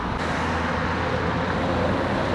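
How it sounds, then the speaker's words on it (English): Steady road traffic rumbles past in a busy urban area, a continuous broadband wash of car and vehicle noise at even loudness throughout, with no talking. "Obviously I'm in a really busy area, lots of traffic around as well."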